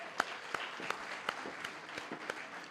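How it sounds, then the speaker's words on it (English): A small audience claps at the Omaheke Education Summit as a speaker walks off stage. The applause is quiet and a little distant, with a few sharper claps standing out at a fairly steady, sparse rhythm. "let's give her another round of applause."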